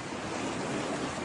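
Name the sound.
floodwater rushing through a subdivision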